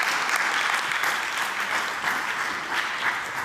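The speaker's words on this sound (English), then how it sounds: "I give her a round of applause" An audience gives a dense, sustained round of applause for a panelist joining the stage at a conference session, the clapping even and full throughout.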